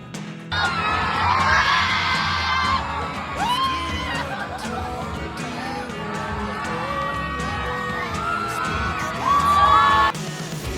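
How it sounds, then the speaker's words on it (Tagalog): A party crowd cheers, whoops and yells as Bea Alonzo dances at a Sunday night party. The loud, sustained shouting runs over music and swells again near the end. "Grabe ang hiyawan ng tinudo na ni Bea Alonso ang pagsayaw."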